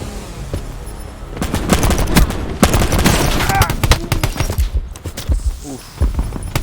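Pistol shots in a video game's gun-game mode, a loud run of sharp close cracks at an uneven pace through the middle, with scattered quieter shots afterward.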